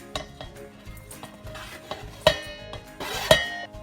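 Chopped spinach tipped into a bowl of lasagna cupcake mixture, with soft scraping and stirring, light clinks of a utensil against the bowl and two sharper knocks, close and fairly quiet.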